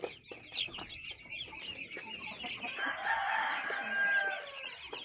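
Hybrid chickens on a small poultry farm cluck close by in a steady stream, and a rooster crows loudly midway through, holding a long drawn-out call.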